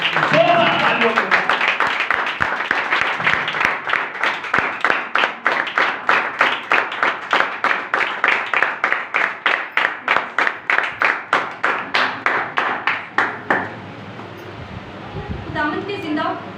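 A congregation at a Christian worship gathering claps in a steady, unison rhythm, roughly two beats a second, loud and close, then the claps stop and the room falls quieter.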